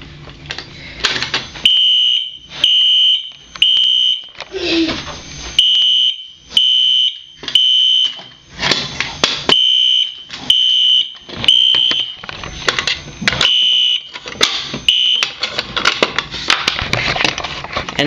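A wired fire alarm set off from a pull station blares in repeated loud bursts of a shrill electronic tone, each pulse separated by short gaps, sounding steadily for a long stretch with no talking.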